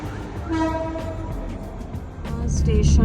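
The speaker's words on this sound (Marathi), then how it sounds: "ट्रेन आली" A train arriving at Kankavli station rumbles in close with a sustained horn tone, low mechanical noise building toward the end.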